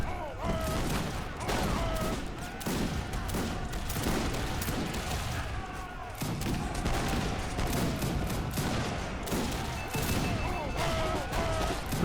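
Field guns and musket volleys in the Napoleonic-era strategy game Wars of Liberty, a dense, continuous battle din of rapid overlapping shots and crashes, loud and busy, with a voice talking over it.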